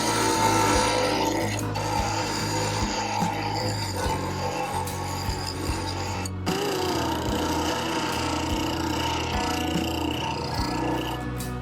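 Continuous grinding of the back of a steel framing chisel during restoration, a steady abrasive rasping that runs close and loud for the whole stretch with brief dips, no talk.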